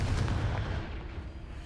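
A Confringo fire spell is cast in Hogwarts Legacy, heard as a low, booming blast that rumbles and slowly fades over under two seconds, with no talk.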